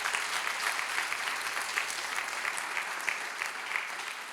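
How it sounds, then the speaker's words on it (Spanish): A church congregation breaks into loud, sustained applause filling the room, with many hands clapping steadily together for the whole stretch. "Denle un fuerte aplauso al Señor en este día."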